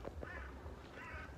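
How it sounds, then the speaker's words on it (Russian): Crows caw beside a lake in Moscow, a few faint, distant calls over quiet outdoor background noise. "Еще бы вороны не каркали бы"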